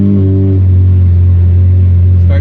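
A Ferrari 458 engine starting up after a new lithium-ion battery install, a loud steady low idle rumble with a brief higher burst near the start, close and continuous with no talk.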